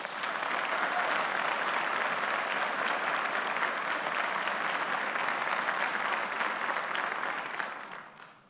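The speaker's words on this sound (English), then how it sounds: "Please join me in giving a round of applause to our elected officials" A dense, steady round of audience applause for elected officials and staff at a county State of the Region address, filling the hall for about eight seconds before tapering off at the end.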